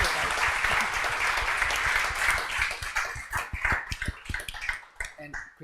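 Audience at a UX writing event breaking into applause, a full, dense patter of clapping that gradually thins into scattered individual claps toward the end.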